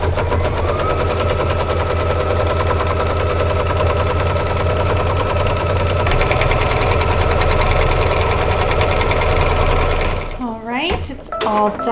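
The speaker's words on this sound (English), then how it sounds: "And now we're going to stitch the tack down line so it will secure this." An embroidery machine stitches a tack-down line through batting with a fast, even mechanical chatter that runs for about ten seconds, then stops, followed by a few brief handling sounds.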